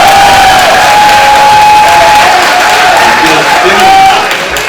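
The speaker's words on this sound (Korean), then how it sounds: "여기는 박수 크게 안 치셔도 될 것 같습니다." Audience applause fills a press conference for a presidential campaign announcement, loud and close, a sustained clatter of many hands clapping with some crowd voices mixed in.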